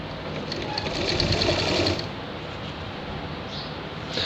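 A sewing machine runs steadily, stitching three shirt fabric strips together at once, louder for the first two seconds and then continuing at a lighter, even hum with no talk.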